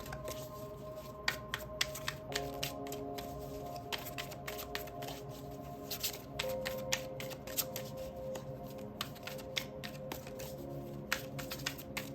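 Crisp riffling and flicking of a tarot card deck, repeated shuffles with sharp snapping clicks, close up, steady over a low background hum.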